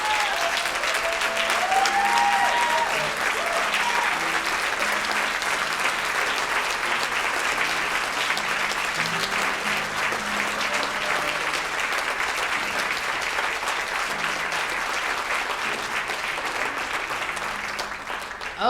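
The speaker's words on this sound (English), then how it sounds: "I want to take a moment and ask you to join me in applauding" An audience at the NAACP Freedom Gala applauds steadily for almost twenty seconds, a dense, even roar of clapping that fades slightly at the end, with faint music underneath.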